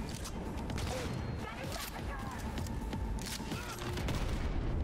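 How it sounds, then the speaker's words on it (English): Explosions and gunfire in Cyberpunk 2077 make a dense, steady wash of crackling bursts and booms that fills the whole moment at fairly even loudness, with no clear pause. "Oh, something's exploding on me."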